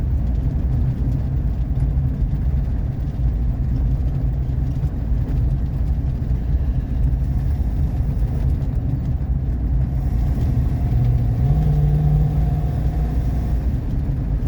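A 1959 Ford Fairlane 500 engine running on its first drive in 17 years gives off a loud, continuous low rumble with road noise from inside the car, and the pitch rises slightly near the end.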